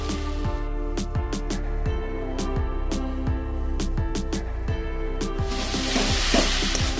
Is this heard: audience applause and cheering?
no